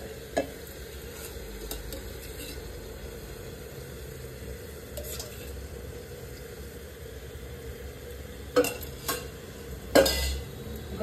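Mutton liver frying in a pan, a soft continuous sizzle with occasional scraping stirs and a few louder clatters of the spoon against the pan toward the end.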